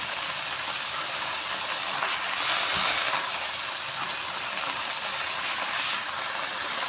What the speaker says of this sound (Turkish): Burada da makarna suyu kaynıyor.